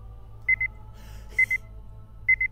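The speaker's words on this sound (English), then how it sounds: "This beeping sound that you hear right now means the Ocelot is losing control of me." A short electronic double beep from the Metal Gear video game repeats three times at even intervals, small and clear over a low steady hum, with a soft burst of noise between the pairs.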